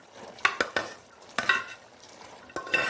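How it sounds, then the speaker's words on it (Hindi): Boiled dal tipped from a pot into spinach in a cooking pot and stirred, several wet scraping strokes of a spoon against metal in a slow, uneven rhythm, close and moderately loud. "ये देखिए ये सारी दाल मैं अब इसमें ऐड कर रही हूँ।"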